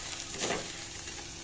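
Spices sautéing in a little oil in a pan give a soft, close sizzle with a brief stirring scrape.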